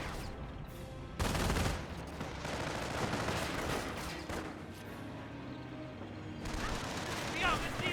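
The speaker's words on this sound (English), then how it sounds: "A second barrage." An artillery barrage in Company of Heroes: bursts of explosions and rattling gunfire come in waves, with a loud blast cluster early on and more later, under a commentator talking.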